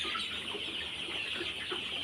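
Sonali chickens on a poultry farm cluck in a steady, soft flock murmur, with scattered individual clucks rising over a constant background hum throughout.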